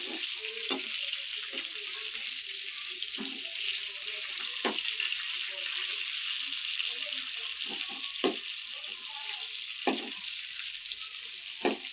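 Dried fish lightly roasting in oil, a steady soft sizzle with scattered crackling pops and occasional small clinks, close and even throughout, no talk.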